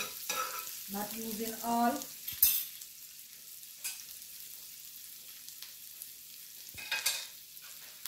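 Peppers dropped into a hot pan for a Jamaican callaloo stuffed fish: a brief burst of sizzle and frying with stirring near the start, then mostly quiet with faint clicks, and someone speaking briefly.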